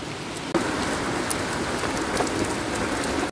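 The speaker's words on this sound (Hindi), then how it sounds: "यार कितनी ज्यादा तेज बारिश हो रही है" Heavy torrential monsoon rain pours down in Himachal, a dense, steady roar of drops drumming on surfaces, loud and close, with no voices over it for the whole stretch.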